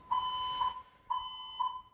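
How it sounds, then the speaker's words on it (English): A building fire alarm sounds at night in two long electronic tones, each about half a second, with a short gap between them. The tones are steady, piercing and clear over a quiet background. "2:49 in the morning, we have another fire alarm."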